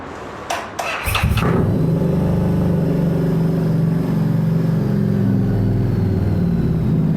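A few sharp clicks and sputters, then a homemade motorbike engine fires up and settles into a loud, steady, throaty idle close by.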